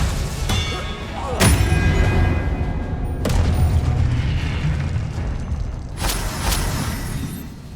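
Expelliarmus spell casts in the video game Hogwarts Legacy, heard as three sharp whooshing bursts at spaced intervals over a steady game ambience.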